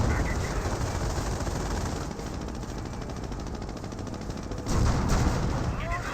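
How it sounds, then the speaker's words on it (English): A rocket barrage artillery strike in the World War II strategy game Company of Heroes lands as dense, rumbling explosions and crackling fire, with a heavier burst of impacts near the end. "Flying rocket barrage right on in."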